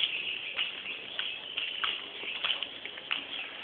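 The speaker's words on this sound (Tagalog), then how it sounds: "Ayan yung birds aviary." Birds in an aviary at an ecovillage chirp and call continuously at a moderate distance, a dense layer of bright twittering with occasional sharper notes and no talking.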